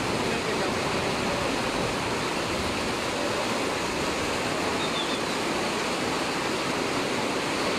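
Loud, continuous floodwater roars without pause in Ecatepec, Mexico, a broad, churning torrent close by with no voices, during no rain, rising up steps.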